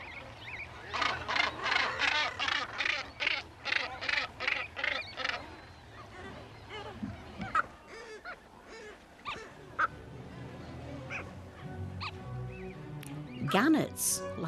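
Harsh, rhythmic honking calls burst out as gannets squabble in a crowded breeding colony, a loud run of repeated squawks followed by scattered calls and background colony noise, with a narrator's voice heard over part of it.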